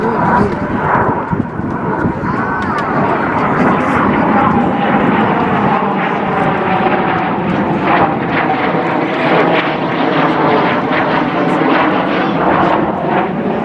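Loud, continuous roar of an aircraft engine passing nearby at about 250 knots, droning and rumbling throughout with a slowly shifting pitch.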